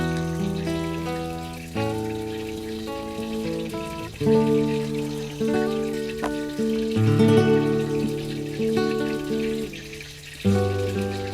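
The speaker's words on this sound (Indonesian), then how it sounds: "jadi lagu ini bermula dengan hujan" Rain opening a song: a soft patter of rain sits beneath sustained guitar and keyboard chords that change every couple of seconds, fairly quiet and steady, with no voices.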